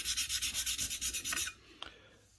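A rusted bench chisel is hand sanded on 320 grit paper, about a dozen quick, even back-and-forth rubbing strokes, close and fairly loud, before the motion stops and a faint tap follows.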